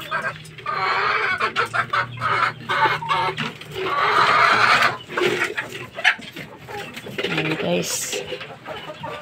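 Fighting roosters bred for cockfighting at a Filipino farm, including bolick and green-legged birds, clucking and crowing in repeated bursts nearby while someone talks over them.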